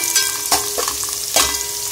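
Onions frying in about half a cup of oil in a pan, a steady loud sizzle with a few sharp bursts as they are stirred, and no voices.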